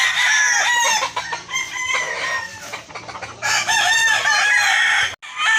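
Several roosters crow loudly and repeatedly, their calls overlapping close by with no pauses between them.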